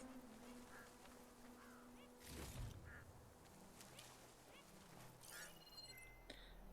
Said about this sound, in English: I just keep hearing ducks going crazy.